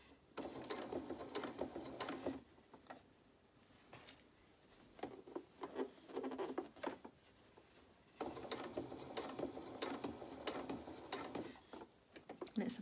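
A sewing machine stitches fabric in bursts of quiet mechanical whirring, pausing between runs as the cloth is repositioned under the presser foot.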